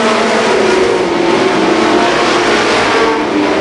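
Race cars roar down the front stretch at Columbus Motor Speedway in 1990, a loud, continuous engine howl with a sustained droning pitch, close and unbroken.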